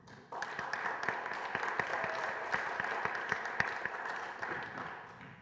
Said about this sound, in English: So this is our chance to applaud you.